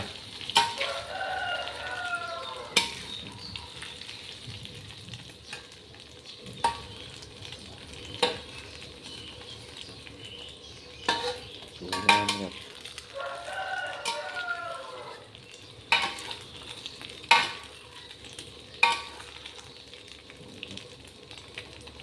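Thai omelette (khai jiao) frying in a pan, a soft steady sizzle broken by sharp clinks and scrapes of stirring, with a rooster crowing a few times in the background.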